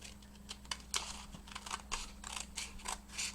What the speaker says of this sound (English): I'm going to cut it to about half that length.